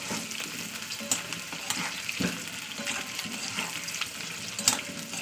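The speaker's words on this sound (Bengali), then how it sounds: "আলুগুলোকে আমি ভালো করে তেলে ভেজে নেবো" Potato pieces fry in oil for a chicken curry with cauliflower, giving a continuous close sizzle with occasional clicks and scrapes of stirring throughout.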